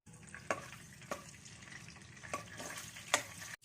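Whole spices (cumin seeds, a bay leaf, a cinnamon piece and green cardamom) fry in hot oil in a kadhai with a quiet, steady sizzle, broken by a few sharp metallic clinks of a spoon against the pan.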